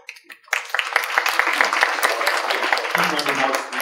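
An audience at a judicial procession and State of the Circuit event bursts into sustained applause, many hands clapping close and loud in a steady dense patter that keeps going to the end.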